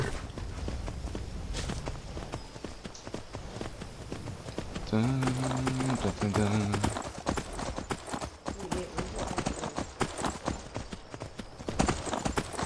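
Horse hooves clip-clop in a rhythmic gallop in Skyrim, a steady run of hoofbeats with a brief musical tone in the middle and someone talking over parts of it.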